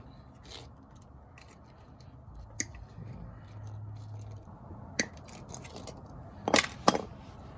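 Wire cutters snip through thick wiring from an automatic shifter harness during an auto-to-manual swap on a car, giving a few sharp close clicks and snaps over low background hum, with no talking.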